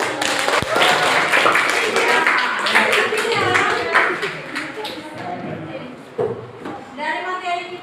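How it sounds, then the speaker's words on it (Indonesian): An audience at a talk claps in a loud, busy burst of mixed hand claps that thins out toward the end, with voices over it. "Oke, tepuk tangan."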